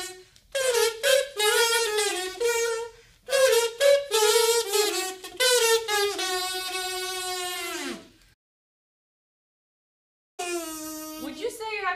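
A homemade comb-and-baking-paper kazoo plays a saxophone melody in loud, buzzy, reedy phrases with short notes and a longer held tone, then falls silent for two seconds before starting again.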